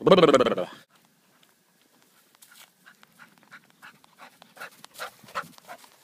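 A short burst of noise at the start, then a dog pants softly in quick, irregular breaths close by, with faint whimpers between them.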